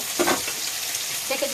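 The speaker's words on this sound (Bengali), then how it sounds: "এখানে আমি করলাটা ভাজা দিয়েছি। এই যে এই পাশে করলাটা আস্তে আস্তে ভাজা হবে" Bitter gourd slices frying slowly in an oiled pan, giving a soft continuous sizzle broken by a few scraping stirs of a spatula.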